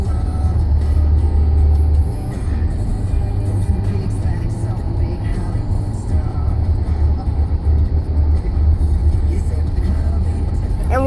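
From inside a moving car comes a constant low road rumble and engine drone, with people chatting over it.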